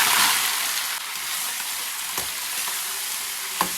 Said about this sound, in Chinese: 把鸡炒至上色